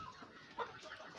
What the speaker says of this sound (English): Baby guinea fowl.